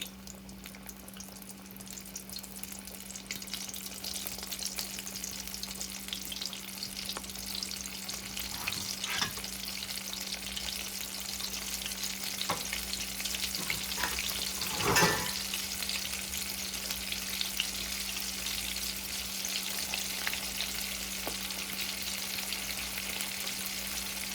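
Shrimp fry in a pan with a continuous, even sizzle and a low steady hum beneath, broken by a few faint clicks and taps from handling partway through.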